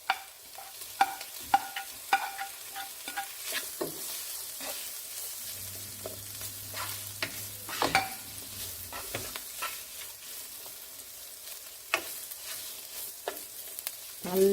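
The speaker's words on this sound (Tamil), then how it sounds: "இப்போ இது மேலே பொட்டேட்டோ போட்டுடலாம். போட்டுட்டு நல்லா ரோஸ்ட் பண்ணுங்க." Potatoes roasting in a pan for potato masiyal, with a steady frying sizzle broken by repeated sharp scrapes and clinks of a spoon stirring them, close up, with no voices.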